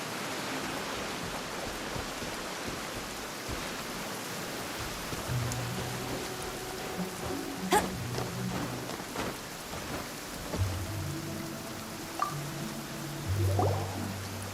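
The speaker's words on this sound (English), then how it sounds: "It's raining! Now my uniform will get all wet." Steady rain falls in Genshin Impact, a dense, continuous hiss of drops on surfaces with faint low rumbles and a few sharper ticks scattered through, holding an even level throughout.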